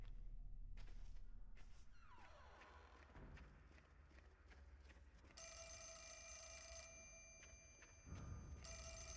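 A telephone ringing in the horror video game Fatal Frame 4, a bright trilling ring that starts partway through after scattered footsteps and game noises, then cuts off and briefly resumes.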